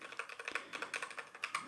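Rapid keystrokes on a Redragon Zed Pro wireless RGB mechanical gaming keyboard with brown switches, a quick irregular run of soft, fairly quiet clicks close up with no voices.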